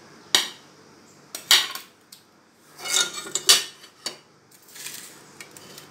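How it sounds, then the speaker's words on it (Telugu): A knife chops tomatoes into small pieces for a tomato paneer curry, giving about half a dozen separate sharp clacks against a board with short pauses between cuts, close and fairly crisp. "టమాటాలు కూడా కట్ చేసుకుంటున్నాను"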